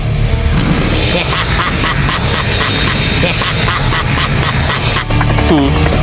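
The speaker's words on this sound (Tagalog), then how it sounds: "Parang sinasapian ng pato ang matandang dragon na yun" An old dragon in a video game gives off rapid duck-like quacks, a dense run of nasal honking calls over game background sound, ending with a sharp change of effects.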